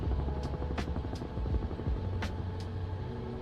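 Helicopter engine in Microsoft Flight Simulator 2024, a steady loud low rotor and turbine drone struggling in a climb, with a few brief sharp high-pitched clicks over the continuous hum.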